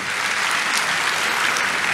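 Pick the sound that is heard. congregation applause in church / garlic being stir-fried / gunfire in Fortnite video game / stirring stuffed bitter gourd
congregation applause in church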